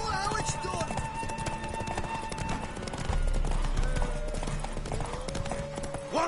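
Horse hooves clip-clopping in a steady rhythm through a PlayStation 4 video game scene, continuous and fairly close, with characters speaking over the hoofbeats.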